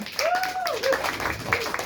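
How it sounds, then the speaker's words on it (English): An audience at a stand-up comedy open mic in Turkey applauds, with scattered clapping under a long rising and falling whistle and some voices in the room. "A big round of applause for Ceren, everyone."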